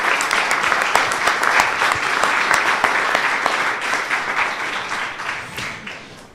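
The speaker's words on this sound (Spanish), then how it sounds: "¿Le da un aplauso al Señor?" A church congregation breaks into sustained applause, a dense wash of many hands clapping from across the room, holding steady for several seconds before gradually thinning out.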